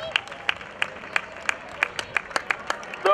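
Applause for the first-placed woman at a popular women's triathlon in Villa Alhama, 2015: a steady run of sharp, evenly spaced claps from a small crowd, with a voice over them and a louder burst at the very end.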